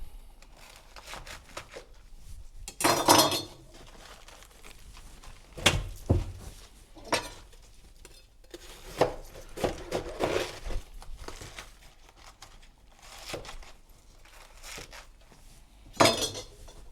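Cabbage being cut with a knife in a home kitchen while preparing kimchi, with a few sharp crunching chops and clattering of utensils and dishes, spaced irregularly with quiet gaps between.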